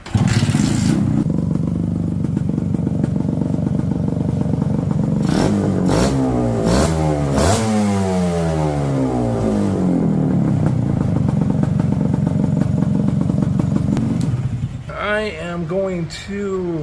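A loud two-stroke chopper motorcycle with a stuffed exhaust idles with a muffled rumble, then revs up and down in rising and falling sweeps before settling back.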